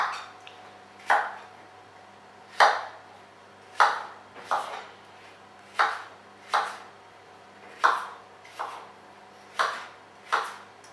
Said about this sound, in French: je recoupe encore mes quartiers en deux. Et j'en fais des petits cubes.